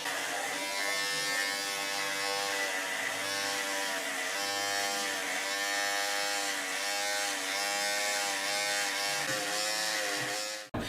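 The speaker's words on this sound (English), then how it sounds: "This again is the Wahl cordless detailer LI for lithium ion" A cordless lithium-ion Wahl Detailer Li beard trimmer running nonstop, a close, even electric buzz with a high whine that holds steady for about ten seconds before cutting off abruptly at the end.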